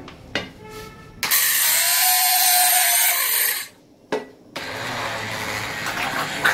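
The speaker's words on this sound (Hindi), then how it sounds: "क्रीम शामिल करके हम इसको फौरन हैंड ब्लेंडर से एक दफ़ा" A handheld blender whirs loudly in two bursts through dal makhani with cream, stopping briefly between them, with a steady motor whine and churning mixing noise close by.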